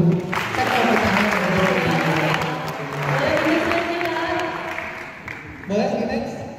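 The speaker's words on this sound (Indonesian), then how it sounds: "Boleh tepuk tangan dulu" A crowd claps steadily for several seconds, the applause fading slightly before a brief final burst.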